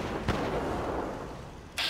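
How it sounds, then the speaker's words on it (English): Distant explosions and gunfire rumble through a Fallout 4 battle: a dense, continuous low roar with one sharp blast early on and another burst near the end, fairly loud and with no talk. "That's a lot of explosions going on over there."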